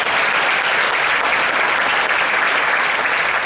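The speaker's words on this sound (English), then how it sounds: "So give our M&O guys a round of applause." Sustained applause from a school district audience honoring its maintenance and operations staff at a state-of-the-district address: dense, even clapping that fills the room from start to finish.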